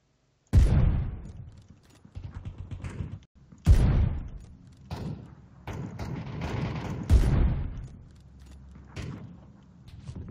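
Three heavy booming shots in an online shooter game, each a sharp loud blast followed by a rumbling tail, spaced a few seconds apart with no talking over them.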